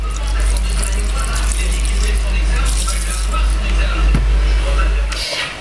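White wine is poured over scallops, shrimp and onion in a pan, a continuous splashing trickle with a low hum underneath that cuts off near the end.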